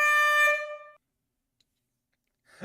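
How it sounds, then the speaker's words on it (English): A loud, blaring air horn blasts for about a second and cuts off abruptly, followed by silence and a short rustle. "that goddamn air horn goes off"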